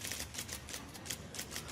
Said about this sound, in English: this is an IBM Selectric typewriter